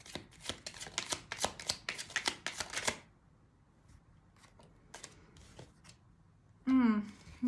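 Nicoletta Ciccoli Tarot Mini cards shuffle in a quick run of crisp riffling bursts for about three seconds, followed by quieter scattered card taps and a brief voice near the end.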